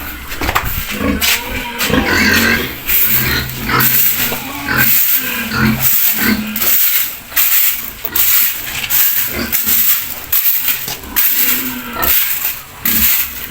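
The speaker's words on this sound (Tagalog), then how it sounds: "So ngayon, tatlo na lang sila nga na inaying baboy" Several pigs on a pig farm grunt and squeal close by, loud overlapping oinks in irregular bursts throughout with short pauses between, alone without talk.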